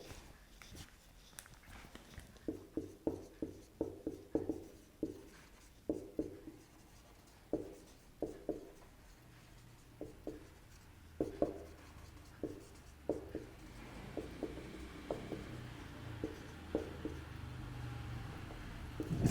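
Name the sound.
writing out a full form by hand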